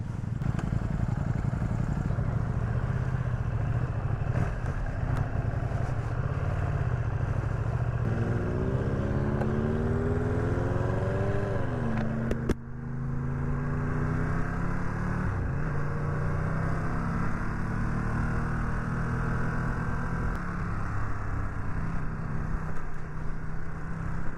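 A Ducati Streetfighter V2 motorcycle on the road, its engine droning loudly and continuously through wind rush, with rising revs as it accelerates and shifts gears midway; no voices.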